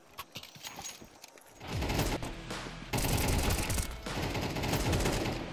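Bursts of rifle fire in a Counter-Strike match on the map Ancient crackle through the game audio, starting light and sparse, then swelling into dense, loud sustained volleys that ring on to the end.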